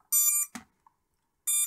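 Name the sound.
drone beeping alert indoors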